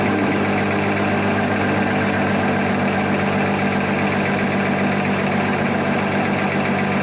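An electric distributor tester spins a distributor fitted with NOS advance springs, making a loud, steady motorized whir with a fine, even rattling vibration that holds constant throughout, with no voices.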